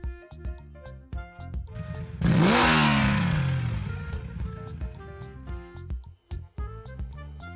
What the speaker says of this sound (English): How does motorcycle sound?